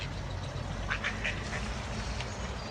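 Ducks at a duck park quacking in a quick burst of several harsh calls amid scuffling, the birds fighting among themselves close by over steady outdoor background noise, with no talking.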